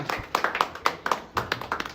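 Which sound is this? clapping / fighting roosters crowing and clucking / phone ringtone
clapping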